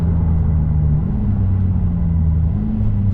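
A Lotus Emira with a four-cylinder engine and an automatic gearbox drones steadily near its red line without shifting up. The loud, continuous engine note holds almost level, rising slightly in pitch twice, and no one speaks.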